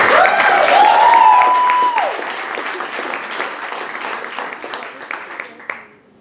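Audience applause for a volunteer at a variety show, dense clapping from a crowd that starts loud with a held musical tone over it, then thins and fades out over about six seconds.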